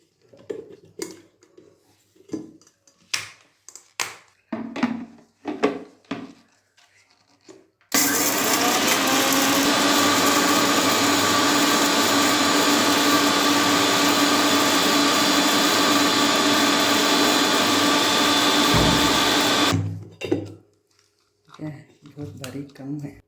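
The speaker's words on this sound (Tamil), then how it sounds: "இதுலேயே போட்டு இப்போ பொடியாக அரைச்சிக்கலாம்" A mixer grinder runs continuously for about twelve seconds, loud and close, whirring as it grinds puffed rice and salt to a powder, with scattered clatter and handling sounds before and after.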